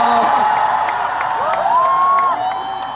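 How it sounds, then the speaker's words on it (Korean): Applause rises from the crowd at the Imsil Cheese Festival, an outdoor event, in a sustained, dense clapping wash with cheers and whoops mixed in. It eases slightly toward the end. "박수 한번 보내주세요."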